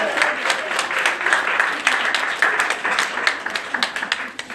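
A church congregation claps and cheers together in a dense burst of applause, loud and close, with scattered sharp individual claps standing out near the end.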